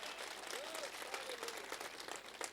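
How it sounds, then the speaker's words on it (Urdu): A church congregation applauds for the Lord, dense, continuous clapping for a few seconds with faint voices mixed in. "آئیں خداوند یسوع کے لیے زوردار تالیاں بجائیں۔"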